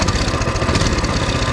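Small gasoline engine of a Coleman mini-bike running loud and close, a dense continuous drone with slight throttle swells and no pauses, no speech over it.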